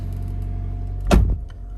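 Door of a 2021 Mazda CX-30 Premium shutting with a single solid thump close by, over a steady low vehicle hum.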